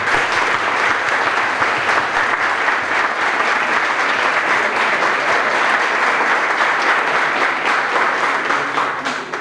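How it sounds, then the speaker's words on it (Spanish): Audience applauding a choir at a community choral concert in a social hall: steady, dense clapping from a full room, loud and sustained throughout, with no talk over it. "Así que les pido un muy fuerte aplauso para ellos."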